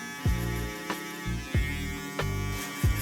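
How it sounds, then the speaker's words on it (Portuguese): Electric hair clipper cutting a low fade: a steady mains-like buzz with rhythmic surges and sharp bursts about every half second as the blades pass through hair, close and alone. "Você consegue perceber ali se a máquina está cortando ou não"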